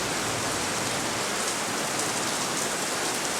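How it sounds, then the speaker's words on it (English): Steady rain pours down in a park in Medias, Romania, a dense, even hiss of drops hitting the ground and foliage. It stays constant and close throughout with no voices. "If I'm going to walk in the rain,"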